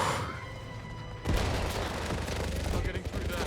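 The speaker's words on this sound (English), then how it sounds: "Where the hell are the shots coming from?" Gunfire from a James Bond 007 video game bursts into rapid, loud shots partway through, following a quieter stretch with low rumble, and continues densely to the end.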